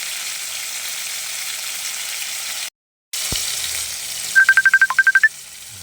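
A phone ringtone sounds in two quick bursts of short repeated beeps, loud and close, over a continuous sizzle of beans frying in a pan with tomato and pepper.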